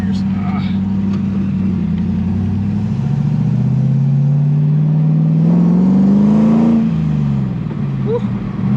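A Lexus IS300 with an LS V8 swap drones loudly from inside the cabin, the engine note rising steadily then dipping and climbing again through a gear change, a continuous close rumble throughout.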